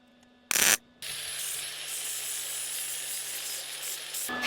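Welding during rust repair on a 1964 Chevy C10 pickup: a short, sharp burst of crackle, then a steady close sizzling arc lasting about three seconds over a faint hum, with no talking.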